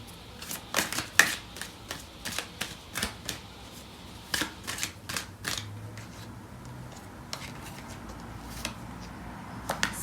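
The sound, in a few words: shuffling tarot cards to draw clarifier cards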